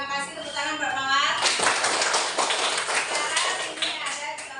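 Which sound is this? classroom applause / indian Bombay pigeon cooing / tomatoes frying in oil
classroom applause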